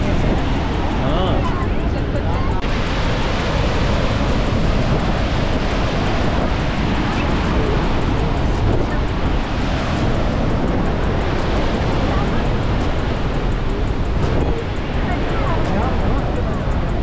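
A dense, continuous roar of rushing water from Purwa Falls in Rewa fills the whole clip, loud and close, with voices faintly buried beneath it.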